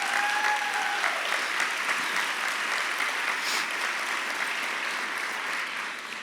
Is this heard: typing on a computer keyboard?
no